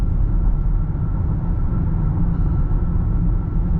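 Range Rover SV with a 4.4 L V8 cruises on the highway at about 1300-1400 RPM under gentle throttle, heard from inside as a steady, loud, low engine and road drone with no change in pitch.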